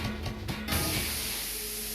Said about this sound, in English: The metal tube erupted, spraying out hissing steam of concentrated vapor.